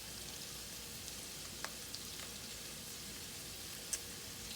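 Beef and broccoli stir-fry sizzling in a hot pan, a steady soft hiss of frying with occasional small pops and spatters, fairly quiet and uninterrupted by talk.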